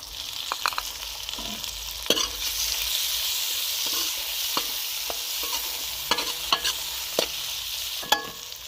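Finely chopped tomatoes added to a pan with garlic and ginger for sarson ka saag, a steady hiss of frying oil broken by scattered clicks and scrapes of a spoon stirring the pan.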